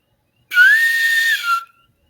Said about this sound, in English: And as they are, you hear a whistle.